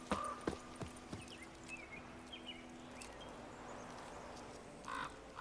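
Sparse hoof clip-clops in a game, a few sharp knocks early on, with crow caws and bird calls over a steady low hum.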